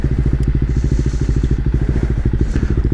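A 2017 KTM 690 Duke R A2 single-cylinder motorcycle idles close up, a loud, even, fast thumping pulse that stays steady throughout with no other sounds.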